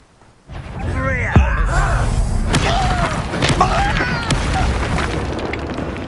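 A Confringo blasting spell erupts in Hogwarts Legacy combat: a sudden loud boom followed by a sustained rumbling, crackling roar with scattered magical zaps, while voices speak over the fight.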